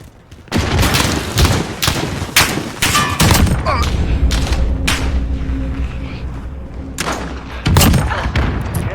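Shotgun blasts from Call of Duty: Modern Warfare gameplay, a few loud booming shots in an irregular series, each followed by a ringing tail, with a low in-game rumble and a faint voice in the background.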